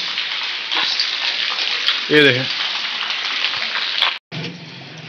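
Rain falling on a street with rainwater running through the lanes, a steady broadband wash heard close and continuous while someone speaks briefly over it.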